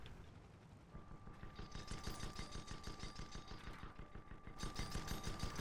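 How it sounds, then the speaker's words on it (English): A Lesmont Gatling gun firing in a competitive video game match, a fast, steady rattle of rapid shots that continues for several seconds at moderate loudness, with a high whining tone running through it. "that's gonna be the Lesmont Gatling gun"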